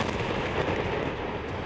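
A bomb explosion in Lebanon is a dense, booming rumble that fills the whole short stretch, loud and continuous like blast noise rolling on, with no voices.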